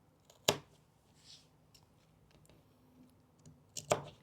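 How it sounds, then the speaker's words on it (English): Scissors snip the last small corner bits of fabric for a pleated bag, two sharp crisp cuts several seconds apart with faint rustling of the cloth between them in a quiet room. "I will just get those little last corner bits with my scissors"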